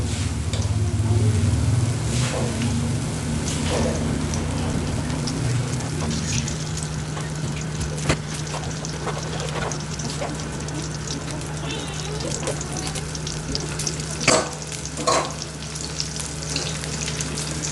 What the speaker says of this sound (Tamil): அதிலே சிக்கனை பொரிச்சு கொள்வோம்